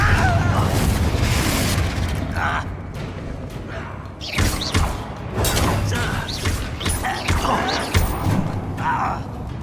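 A fiery Confringo spell detonates in Hogwarts Legacy combat, with deep booms and thuds over busy game effects and character voices.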